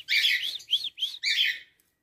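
Male canary chirping in several short, bright, warbling phrases close up, clear and unaccompanied, ending in silence.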